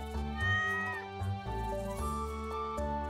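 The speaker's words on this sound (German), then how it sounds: "So, wir haben eine Katze." A cat in Stardew Valley meows in a few drawn-out, tonal calls over a soft game music bed, clear and close.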